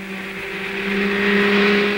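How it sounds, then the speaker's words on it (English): A vintage racing car from a 1960 VSCC race meeting drones past with a steady, rising engine note, loud and continuous for the whole stretch, with no talking. "Sid Day entered his last lap with a comfortable lead"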